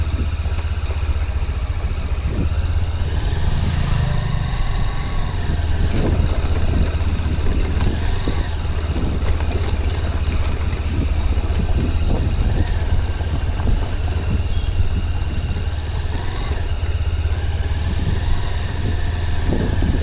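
A Hornet 2.0 motorbike rides off-road by a coal-mine lake, its engine a steady low drone beneath constant wind buffeting the microphone throughout.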